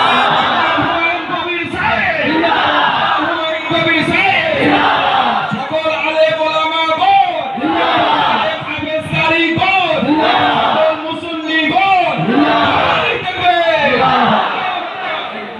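A large crowd at a Muslim religious gathering roars takbir in unison, answering a leader's call with loud, repeated rhythmic chanting that fills the whole stretch.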